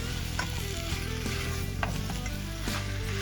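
Spice paste and potatoes sautéing in a pan for a fish head curry, a steady close sizzle with occasional scraping and stirring clicks from a utensil, with no talking.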